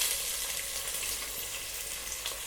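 Two large onions, sliced long, go into hot oil for a Hyderabadi chicken biryani and fry with a steady, dense sizzle. The hiss holds close and even throughout, with no talking.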